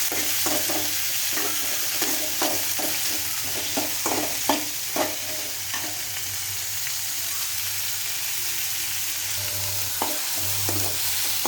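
Tomato curry sizzles and fries in a pan while a spoon stirs it, giving a series of scraping strokes over a constant close crackle.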